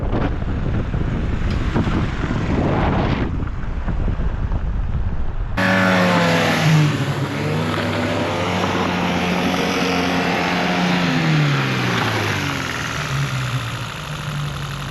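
An engine on a massive go-kart built from an old truck chassis roars to life partway through, running loud and close with a rough, uneven idle and shifting pitch after a muffled opening.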